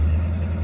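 A car engine runs steadily after being restarted, a low even idle hum with a strong rumble and no talk over it.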